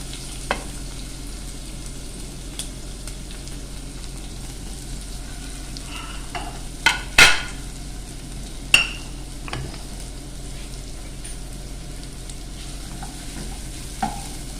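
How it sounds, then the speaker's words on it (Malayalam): Onions and green chillies sautéing in a pan with fennel seeds, a steady soft sizzle under occasional spatula scrapes and knocks, with a couple of louder clatters midway. "നല്ല പോലെ ഒന്ന് നിറം മാറുന്നത് വരെ ഒന്ന് വഴറ്റാം"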